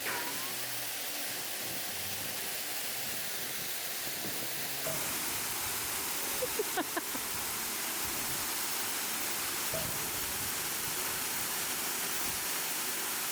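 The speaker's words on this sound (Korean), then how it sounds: "자, 폭포 지금부터 들어갔다 오겠습니다." A loud, steady roar of rushing water pours down nearby, a constant broadband wash with a few faint clicks partway through.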